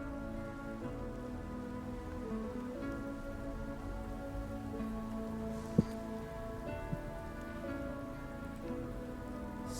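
Steady rain falls throughout, a continuous even patter on surfaces with a couple of brief sharper drips standing out, with no voices over it.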